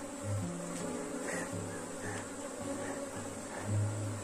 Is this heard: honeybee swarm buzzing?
yes